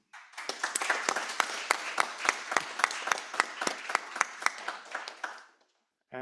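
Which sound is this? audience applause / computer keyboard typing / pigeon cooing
audience applause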